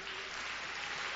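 A church congregation claps during a lively worship service, dense, steady applause filling the room for about a second without pause.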